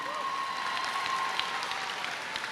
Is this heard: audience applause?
yes